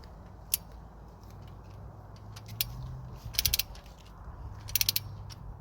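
A ratchet tightens bolts on a 1.9L SOHC Saturn S-Series engine, with short bursts of quick clicks standing out over a low background hum and no speech.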